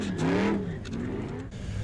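Car doing a burnout, engine revving hard with rising and falling pitch sweeps, loud and close, the revs surging at the start then steadying into a rough roar.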